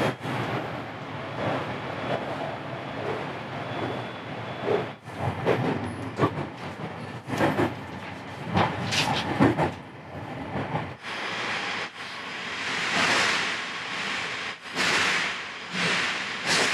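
A Marine Liner rapid train crossing the Seto Ohashi Bridge, heard from inside: a steady rumbling roll with faint rhythmic rail clatter and hiss, fairly loud and continuous throughout, with no talking.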